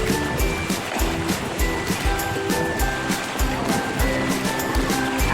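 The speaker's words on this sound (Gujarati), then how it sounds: "આ રોડ અમારો આજે નદી બની ગયો છે." Monsoon rainwater rushes like a river across a flooded road, a loud, steady churning flow with rhythmic surges and splashes close by.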